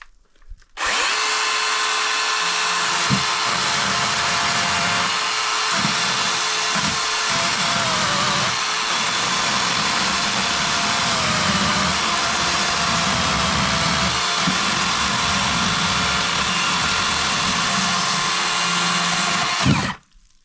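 A DeWalt chainsaw cuts through a knotty log of solid red oak, its loud, high whine running close and unbroken for about twenty seconds, with only slight dips in pitch as the chain bites.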